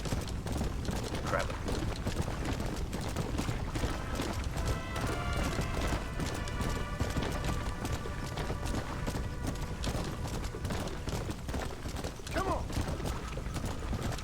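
Horse hooves clip-clopping at a steady gallop in Red Dead Redemption: Undead Nightmare, a continuous rhythmic pounding under dense game ambience, with a brief whinny and occasional faint voice.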